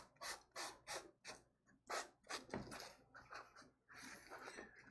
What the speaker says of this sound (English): Because it's a napkin, it sands